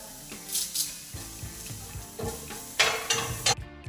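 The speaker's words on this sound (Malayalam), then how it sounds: "ഓയിലിനകത്തോട്ട് കുറച്ച് വെളുത്തുള്ളി ചതച്ചത് ഇട്ട് കൊടുക്കാം, കുറച്ച് കറിവേപ്പില ഇട്ട് കൊടുക്കാം" Crushed garlic and curry leaves sizzle in hot oil while a spoon stirs them through the pan, with bursts of crackling spitting and scraping strokes, loud and close, with no talking.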